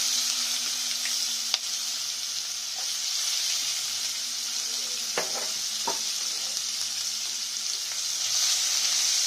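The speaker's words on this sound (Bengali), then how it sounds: "পেঁয়াজটা একটু ভাজা ভাজা হলো" Continuous sizzling crackle of onions frying in hot oil in a wok, with a few sharp scrapes of stirring against the pan.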